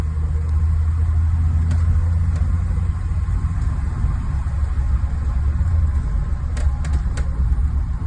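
A 2019 Blue Bird bus engine runs through the gears on a quiet back street, a steady low droning hum with a deep rumble that holds fairly even, heard from inside without talk.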